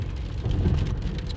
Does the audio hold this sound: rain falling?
yes